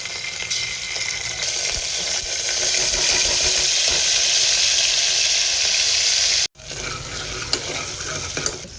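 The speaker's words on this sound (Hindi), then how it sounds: "इसमें जीरा डालने के बाद थोड़ी सी हींग डालेंगे और फिर ये है मदर की गार्लिक जिंजर पेस्ट" Cumin seeds, a pinch of asafoetida and garlic ginger paste crackle in hot oil with a loud, steady sizzle and stirring scrapes, briefly cutting out before the frying resumes for a Kathiyawadi baby potato and onion sabji.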